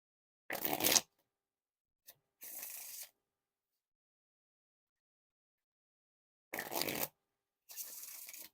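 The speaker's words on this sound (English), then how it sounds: "Now for the Riffle Shuffle or Bridge Shuffle." Two pairs of riffle shuffles of Gold Luxury Noc playing cards: each a quick fluttering burst of cards followed by a softer bridging rustle, separated by silence, heard close up.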